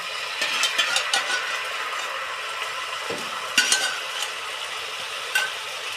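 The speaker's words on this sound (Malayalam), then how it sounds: "എന്നിട്ട് നമുക്ക് ഇത് കൂട്ടി യോജിപ്പിക്കാം" Soya chilli with tomato sauce is stirred in a sizzling pan, with a constant frying hiss under repeated scraping and clinking strokes of a spoon, close up and with no voices.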